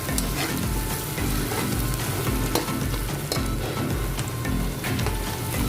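Garlic and onions sizzle steadily in a hot pan while cooking chicken bhuna, a dense continuous frying hiss with faint stirring scrapes, close and even throughout.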